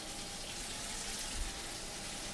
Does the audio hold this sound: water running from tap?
yes